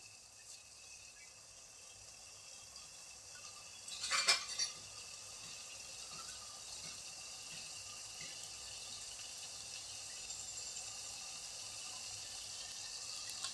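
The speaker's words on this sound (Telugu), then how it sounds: "ఈ కప్పుతో నీళ్లు పోస్తున్నాను" A cup of water splashes into a ridge gourd, chana dal and tomato curry in a pot. The single short pour is heard against a faint, quiet background hiss.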